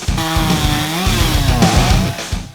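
A chainsaw carving into a block of wood, its engine roaring loud and close throughout, the pitch rising and dipping as the blade bites and revs.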